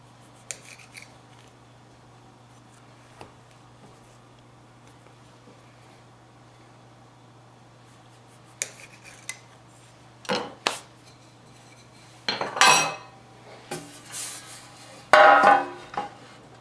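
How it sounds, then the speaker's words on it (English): A boning knife cutting rolled cinnamon roll dough into pieces on a board. Sparse, brief cuts and taps come after a quiet stretch and cluster toward the end, close and fairly soft. "I use a boning knife. And cut each piece into quarters."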